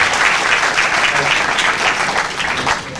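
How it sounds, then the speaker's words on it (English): An audience at the inauguration of a National Integration Camp at NSUT Delhi applauds with a dense, loud burst of clapping that stays even throughout and fades slightly at the end. "Can we have a clap for him?"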